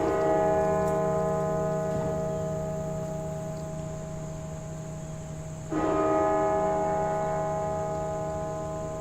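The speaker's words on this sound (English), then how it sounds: "the Washington National Cathedral has just begun to toll its bell 96 times" The Washington National Cathedral's deep bell tolls in mourning for Queen Elizabeth II, long sustained ringing tones layered with rich overtones, a fresh strike renewing the sound partway through, no voices present.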